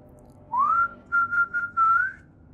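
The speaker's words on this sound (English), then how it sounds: "The sound of whistling." Someone whistles a dog-calling signal: one rising note, then a quick run of short, even blips, ending in a longer held tone. It is clear and solitary at night, with nothing else audible around it.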